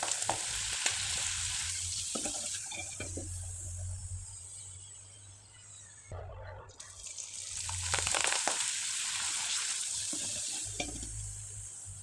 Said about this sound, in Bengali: এবার কয়েকটা পিঠা আমি ভেজে দেখিয়ে দিচ্ছি আর এই পিঠাগুলো ভাজতে কিন্তু বেশি সময় লাগবে না তেলে দেবেন আর তুলে নেবেন